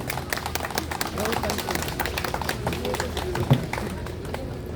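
An audience applauding a veteran voice actress at a commemorative event, a steady wash of many hands clapping that carries on without a break at moderate volume.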